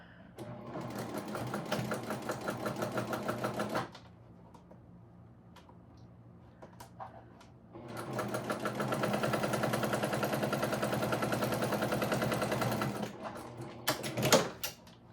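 A sewing machine stitches down a backpack piece in two close, steady runs separated by a quiet pause of several seconds, with a few brief clicks and handling noises near the end.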